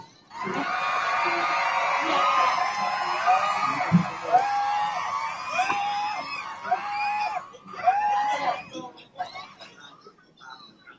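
A crowd at an outdoor Thai political campaign rally shouts and cheers loudly and continuously, with many overlapping voices and whoops and a few louder individual calls toward the end.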